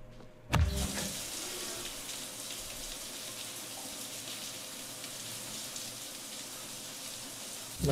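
A shower runs in Cyberpunk 2077, opening with a brief clunk before a steady, even hiss of spraying water that holds unchanged for several seconds.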